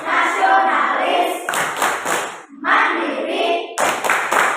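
Students in a class perform the rhythmic PPK clap, bursts of hand claps mixed with chanting voices, loud and close, with a brief pause midway before the clapping resumes.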